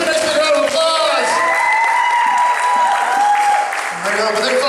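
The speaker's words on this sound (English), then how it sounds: "Give a nice big round of applause." A hypnotist show audience breaks into loud, continuous applause with cheering and whoops mixed in, a dense wash of clapping that holds steady throughout and dips briefly near the end.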